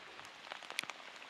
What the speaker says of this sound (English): so now it's pouring on us. Skies opened up.